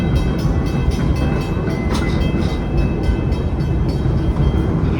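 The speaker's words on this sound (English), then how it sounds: "I kind of want to keep riding the train" An amusement park train at Busch Gardens Williamsburg rolls steadily along its rails, giving a continuous loud rumble with rhythmic clicking of wheels over track joints.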